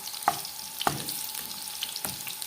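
Garlic frying in oil, a dense close sizzle with a few sharp clicks as it is pressed and stirred in the pan.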